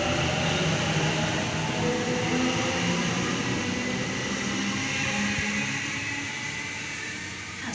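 A Sydney train departs Platform 1 at Warwick Farm station, a loud, continuous rumble of wheels and motors close by that stays steady and then fades slightly at the end, with no speech.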